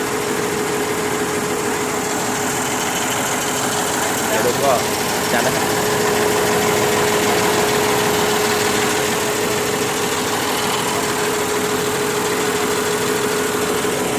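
A tuned-up engine idles steadily after its wiring was redone, a constant mechanical hum with a faint whine running underneath the whole stretch, while people talk over it.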